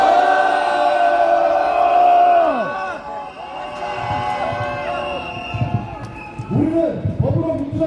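Loud crowd at a Korean political rally lets out a sustained roar of cheering and shouting for about three seconds, then trails off into scattered voices and calls.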